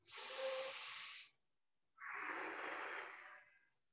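Two long, deep breaths during a pranayama breathing exercise: a steady airy inhale, a brief pause, then a second breathy exhale that fades out, close and alone with no talk.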